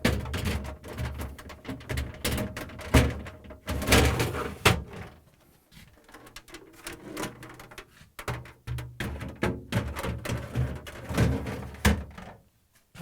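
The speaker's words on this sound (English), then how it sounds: "And now I'm going to slide in the drawers." Refrigerator drawers are slid into place, giving a series of plastic scraping, sliding and knocking sounds close by, with repeated clunks as each drawer seats, alone without speech.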